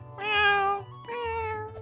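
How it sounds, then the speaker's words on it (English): A gray cat in a Roblox game gives two clear, close meows in quick succession, the first brighter and longer, the second slightly lower. "It's a gray cat."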